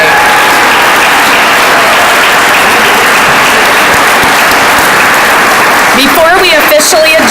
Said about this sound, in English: Let's have last round of applause to congratulate all of our award recipients today.